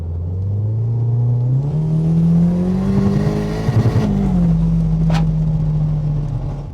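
A Merkur XR4Ti fitted with a 2.4-litre Honda engine accelerating from inside, a loud steady engine drone rising in pitch, briefly dipping at a gear change, then continuing strongly.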